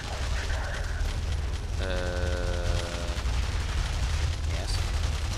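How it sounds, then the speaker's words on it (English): Shotgun blasts in The Saboteur video game ring out over a continuous roar of battle noise and scattered gunfire, loud and dense, with a brief tonal game sound partway through. "Shotgun."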